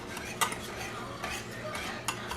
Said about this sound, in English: I usually take my whisk and whisk this